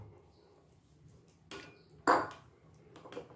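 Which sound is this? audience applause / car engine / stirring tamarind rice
stirring tamarind rice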